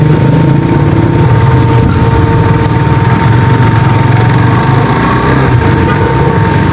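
A KTM RC 390 motorcycle engine idles steadily up close, a loud, even low thrum with a constant hum and no talking.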